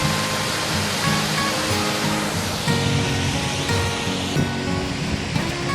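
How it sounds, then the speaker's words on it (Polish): A cascading waterfall in Wisłoczek in the Beskid Niski mountains roars as a constant, loud, broadband rush of falling water, steady throughout with no voices. "Zobaczcie, piękny wodospad, kaskada."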